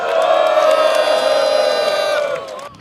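A loud, sustained crowd roar of cheering and applause at a press conference that holds steady, then fades away at the end.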